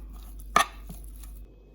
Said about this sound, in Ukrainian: помідор, вирізаємо на кубики.